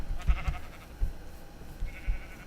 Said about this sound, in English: Are these the swimming sheep?